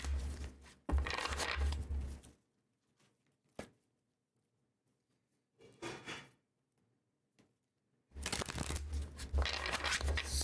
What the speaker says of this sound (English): getting our cards shuffled